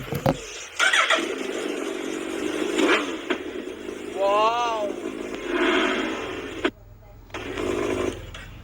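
A Suzuki Hayabusa motorcycle, its silencer pouring out smoke, cranks and fires up with a rising whine and a steady engine hum, while a voice talks over most of it.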